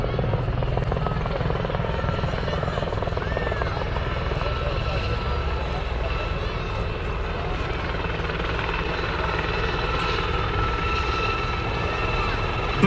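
A gendarmerie helicopter unit flies during a 2019 demonstration exercise at Sremska Mitrovica, its rotor and engine drone holding steady and fairly loud throughout, while a voice talks over it.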